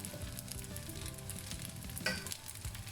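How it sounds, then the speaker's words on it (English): Prawn broth poured through a sieve into a hot one-pan rice, the pan sizzling and frying steadily throughout with a brief louder splash of liquid near the end, close and continuous. "So I'll continue to add a little bit more prawn broth"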